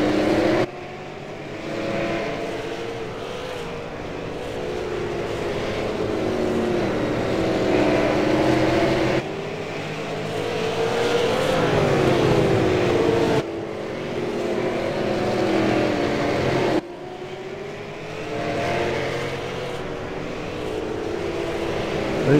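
Race cars at Oxford Plains Raceway in iRacing, a loud continuous engine roar that rises and falls as the pack circles, with abrupt shifts in tone and no talk.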